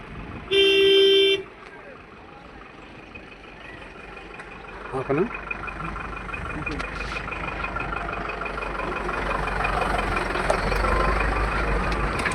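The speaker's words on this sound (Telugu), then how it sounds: "చూడండి కారు వెళ్తుంది బస్సు స్టూడెంట్స్ బస్సు వెళ్తుంది" A car and a students' bus cross the old, pothole-worn Atmakur bridge near Mangalagiri: a sharp horn toot opens, then a steadily swelling engine and road rumble as traffic approaches and passes close by.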